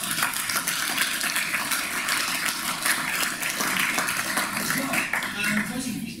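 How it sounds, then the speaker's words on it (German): Sustained applause from a live show audience, a dense, steady wash of many hands clapping that fills the whole stretch, with some voices mixed in. "Das, finde ich, ist ein Applaus wert."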